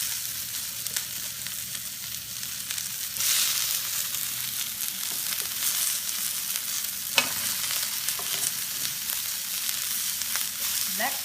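Sliced bell peppers hit a hot frying pan beside browning chicken, bursting into a loud, continuous hissing sizzle with scraping stirs and occasional utensil clicks, close up.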